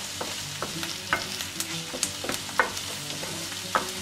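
Onion and garlic frying over medium heat in a pan, a steady sizzle punctuated by repeated scrapes and clicks of a utensil stirring, close and without speech.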